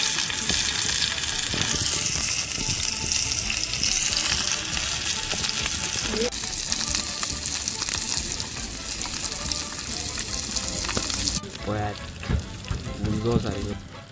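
Fish frying in a pan on a wood-fired clay stove in a Goan kitchen, a steady loud sizzle running throughout with some stirring and clatter near the end.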